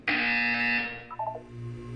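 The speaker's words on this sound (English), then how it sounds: "You will hear a buzzer." A buzzer sounds in the video game Portal 2 during a wellness exercise. One sharp, loud electronic tone holds steady for about a second, then a short wavering chirp follows and a low hum remains.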